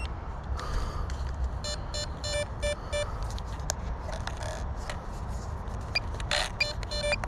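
Short electronic beeps from an FPV drone after a hard crash into a tree repeat in quick bursts over a steady noisy background, with clicks and scraping handling sounds mixed in.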